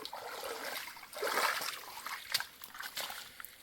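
Water trickling and splashing through a fish trap set in a stream, a continuous close gurgle with small splatters.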